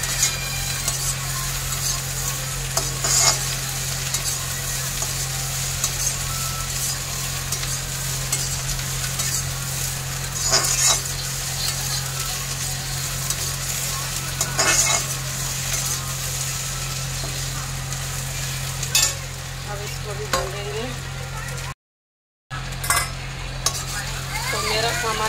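Potatoes fry in a pan with chilli and onion under a long, steady sizzling hiss, while a spoon scrapes and clinks from time to time and a low steady hum runs beneath; someone talks over it at points.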